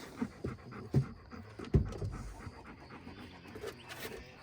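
A dog pants softly and steadily nearby, with a few brief rustles and small bumps mixed in.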